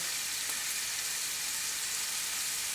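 Roast beef searing in a hot pan, a dense, steady sizzle of frying meat that holds close and even for a few seconds with no voices.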